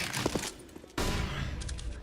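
Gunfire in a Counter-Strike style competitive shooter showmatch, NiP versus Space Soldiers: dense bursts of shots fired through a wall, sharp repeated cracks with a heavier burst near the middle, loud and close.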